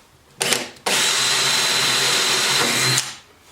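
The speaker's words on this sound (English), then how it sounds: "I think what I'm going to do is drill some pilot holes first." Power drill boring pilot holes into the body of a 2016 Harley-Davidson Tri Glide motorcycle during an audio install: a short burst, a pause, then one long loud steady whine lasting about two seconds before stopping.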